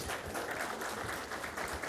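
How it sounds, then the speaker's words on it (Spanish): Audience applause fills a welding conference hall, a dense steady clapping from a crowd that carries on at an even level for the whole two seconds, with no voices over it. "y al ingeniero Darío Figueroa López Senati, quien recibimos también con fuertes aplausos"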